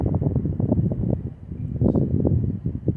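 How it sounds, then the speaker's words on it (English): Strong wind in Munising, Michigan buffets the microphone outdoors, roaring in uneven gusts that swell and ease throughout, with no voices. "I just want to point out how freaking windy it is here."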